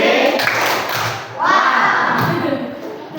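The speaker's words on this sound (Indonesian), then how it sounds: "Kita beri aplaus." Children in a sixth-grade classroom clap together in a short burst of applause, with thumps and a teacher's voice mixed over the patter of hands.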